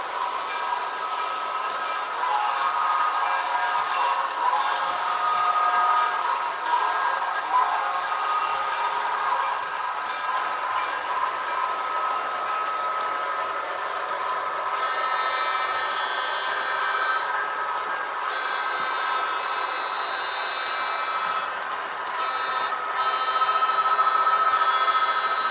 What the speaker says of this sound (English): Let's hit the grade crossing.